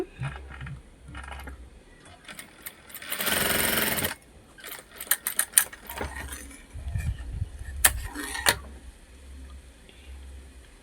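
A sewing machine stitches a blouse in a one-second whirring burst, surrounded by scattered mechanical ticks and clicks of the machine and fabric handling, with quieter stretches between.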